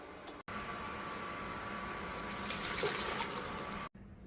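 Water drains from boiled mustard greens through a sieve, a steady close running and trickling splash that pours continuously for a few seconds between brief breaks.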